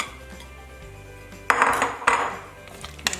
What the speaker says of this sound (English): There's a stir.